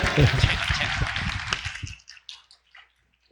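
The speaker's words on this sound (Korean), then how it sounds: "박수 하시겠습니다" A church congregation applauds during a sermon, with dense clapping and some voices at the start that thin into a few scattered claps and die away to silence after about two seconds.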